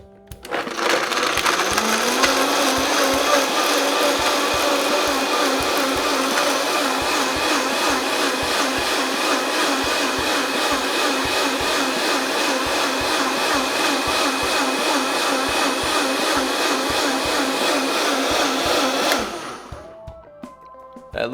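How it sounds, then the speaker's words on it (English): A blender purees lemongrass into gin with a loud, steady whirring roar that holds for about nineteen seconds before cutting off abruptly. "get that blender on. We're just gonna kick this on and let it run"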